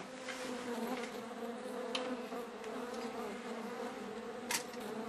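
A fly-like synthetic buzz runs through an acid electronic music track, a steady droning hum with a few brief sharp clicks scattered over it.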